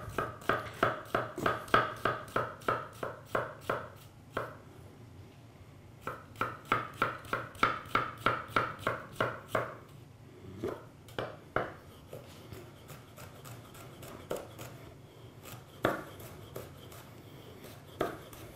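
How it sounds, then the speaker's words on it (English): Shallots are chopped with a sharp knife on a board for a summer shellfish stew, rapid rhythmic bursts of crisp taps broken by short pauses, then slower scattered cuts, close and quiet. "when you're chopping shallots or onions at home, when you peel them, just to keep the root on"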